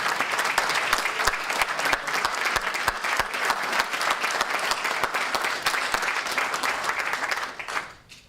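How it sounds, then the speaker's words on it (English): Sustained applause fills a legislative chamber in Connecticut, dense and steady for several seconds before tapering off at the end. "I think we should give a round of applause to Representative Nijam for bringing this forward"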